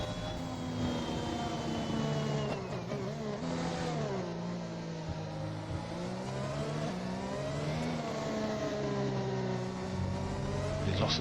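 F1 2021 race cars around the Abu Dhabi circuit, engines whining loudly with shifting pitch as they rev up and down through gears, overlapping cars passing continuously, with no talking.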